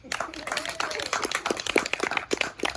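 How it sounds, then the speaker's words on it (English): An audience claps to welcome Chico's own Kayla Nash to the stage at a BSN graduation, a moderate patter of many hands with distinct sharp claps, while a voice talks over it. "If everyone would please clap your hands and welcome to the stage Chico's own Kayla Nash"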